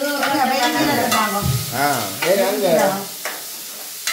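Onion, green chilli and curry leaves fry in a pan, sizzling under a voice talking over it, with scattered clicks from stirring.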